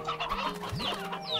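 Cartoonish chicken clucking from the video game Slime Rancher, a few short bright clucks and squawks in quick succession, close and clear over a steady game background hum.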